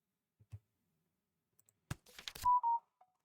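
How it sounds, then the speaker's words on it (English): A phone goes off with a few soft taps, then a short burst of clicks and two clear electronic beep tones as a short video begins playing, all fairly quiet and isolated against silence. "I had a YouTube short start playing on my phone"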